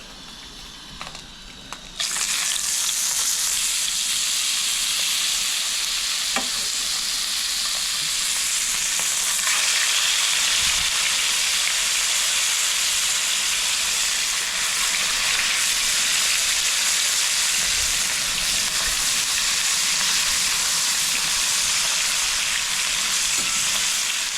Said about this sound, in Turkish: şimdi balıklarımızı kızarttık